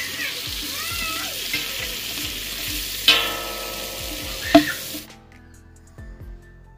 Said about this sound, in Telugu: అంత బాగా వేగిన తర్వాత కొన్ని ఫ్రైడ్ ఆనియన్స్ కూడా వేసి మంచిగా గరిటతో తిప్పుకుంటున్నాము